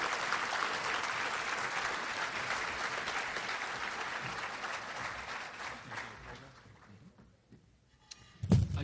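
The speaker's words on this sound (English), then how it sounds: "a round of applause for these men and women" Luncheon audience at a law enforcement appreciation event at PGA National applauding in a sustained round of clapping that gradually fades over several seconds, ending with a brief close bump and rustle.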